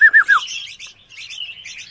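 Red-whiskered bulbul chicks chirping up close, three quick clear rising-falling chirps followed by a run of thinner, scratchy begging calls.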